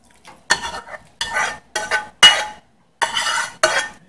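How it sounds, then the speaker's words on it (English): Lao steamed fish salad being poured and scraped from a container back into a bowl: a run of short, close clattering and rustling bursts separated by brief pauses. "I'm going to pour them back into my bowl here."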